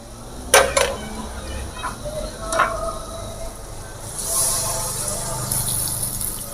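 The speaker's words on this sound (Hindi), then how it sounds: "ये भून चुके हैं, अब पानी डाल देते हैं।" Water pours and gushes into a pot of fried spices and goat trotters with a hissing sizzle, preceded by a few sharp clinks and knocks from cookware.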